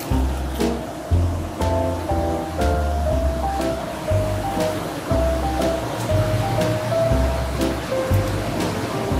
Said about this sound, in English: We have these pumps and water going all year long.